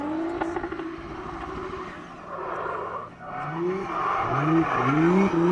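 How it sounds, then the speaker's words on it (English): A drift car at a British Drift Championship round at Teesside revs and roars while tires squeal in rising, wavering screeches, loud and close, growing more intense toward the end. "Car sounds amazing."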